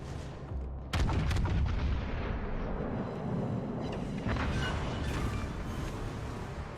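Heavy artillery fire and explosions tear apart a battleship in a naval war video game: a sudden loud boom lands about a second in, followed by a dense, sustained roar of blasts and rumbling gunfire.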